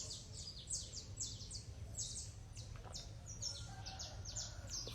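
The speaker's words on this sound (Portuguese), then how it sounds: "O barulho dos pássaros, do galo cantando." Birds chirp in quick repeated bursts over a steady low hum of background noise at a country farm, small bright calls scattered throughout; no clear rooster crow stands out.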